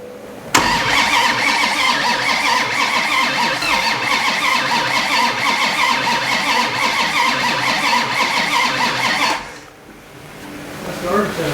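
A 1967 Dodge Coronet engine is heard up close: a sudden loud start into a long, steady rough roar, which cuts off abruptly, leaving a quieter background with some voices.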